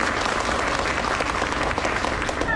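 Audience applause at a gathering, steady dense clapping from many hands filling the whole stretch at an even level, with no voices above it.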